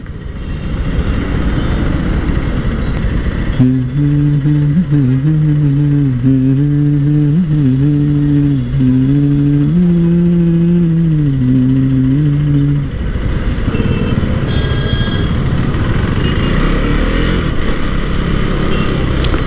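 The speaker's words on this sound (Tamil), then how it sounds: "இனியா செம்மையாக டிராஃபிக்காக இருக்குது." Engine of a KTM Duke 390 motorcycle riding through heavy Chennai city traffic, a loud steady drone with a rising and falling engine tone through the middle stretch, then broader road and traffic noise close by.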